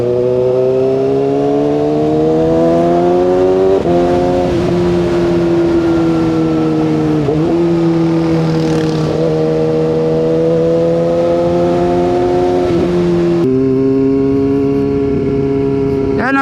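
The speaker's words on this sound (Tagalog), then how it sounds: "Ang lakas kasi ng muffler" Loud car engine droning through its original muffler, a deep steady note climbing in pitch and dropping at each gear change, close and dominant with someone talking over it.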